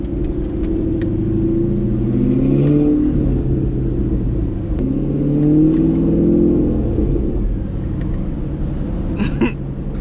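A C7 Corvette Grand Sport heard from inside on a night drive, its engine rumbling low and rising in pitch through a couple of accelerations, steady and close, with no talking.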